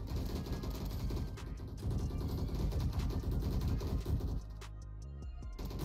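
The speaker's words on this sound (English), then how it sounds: "This guy's shooting right next to me and it keeps cutting out." Rapid LMG fire in the Roblox shooter Bad Business rattles steadily and close, then cuts out abruptly near the end, leaving a few sparse clicks.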